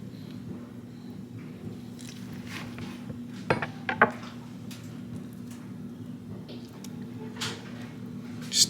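A knife cutting into tender country style ribs on a plate, with a few soft scrapes and a couple of small clinks against the plate over a low background hum.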